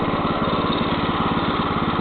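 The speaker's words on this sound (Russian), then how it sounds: "Вот так работает двигатель." A Neva MB-2 walk-behind tractor engine runs steadily during its break-in, a close, even, continuous buzzing drone with no pauses and no voices.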